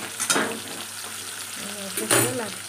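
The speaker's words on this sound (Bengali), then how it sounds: "উচ্ছে আর বেগুন ভাজবো।" Bitter gourd and eggplant fry in a pan with a steady sizzle, broken by two louder bursts of stirring and spatula scraping near the start and end. No one speaks.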